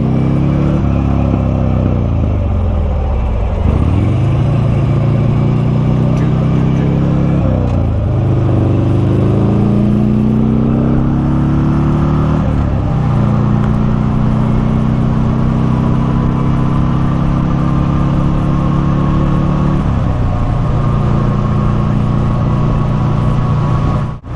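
A Buell motorcycle engine running rough, heard while riding: a loud, steady engine drone with repeated dips and rises in pitch as it revs and shifts, plus wind rumble throughout.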